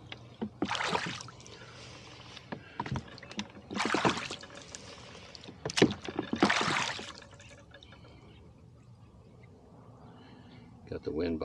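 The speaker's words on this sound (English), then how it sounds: "I'm going to row over that way, just kind of taking it easy" Oars dipping and pulling a rowboat along on Lake Hennessey, three strong splashing strokes a couple of seconds apart with dripping water between them, close up, then quieter lapping near the end.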